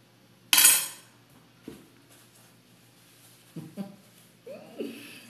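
Fruit being chopped for a homemade fruit salad: a sharp knife strike on a board, then a few softer, scattered chops and clinks spaced over several seconds, close and fairly quiet.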